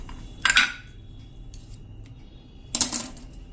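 A spoon clinks against a bowl while stirring a home cough remedy of honey, ginger, lemon and salt, giving two short bursts of metallic scraping and tapping separated by a quiet pause, fairly close.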